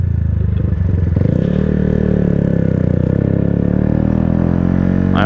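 A Yamaha MT-125 motorcycle ridden without its exhaust baffle over gravel, a loud close steady engine drone with a low crunch and clatter underneath.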